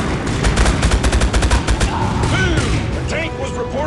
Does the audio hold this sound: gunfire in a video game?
yes